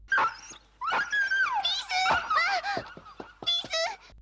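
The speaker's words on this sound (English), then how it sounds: "the leader of the Decepticon kids kicks the dog and kills the cutie little yapping machine" A small cartoon dog in a Transformers animated show yelps and wails after being kicked, a series of high, whining cries and sharp yips rising and falling over several seconds.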